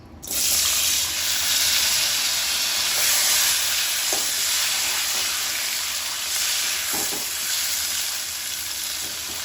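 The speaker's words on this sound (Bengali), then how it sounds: "এখন আমি এই কাঁকরোলটা ভেজে নেব।" Teasel gourd (kakrol) pieces fry in hot oil with a loud, steady sizzle that starts suddenly and continues close by, broken by a few faint utensil taps.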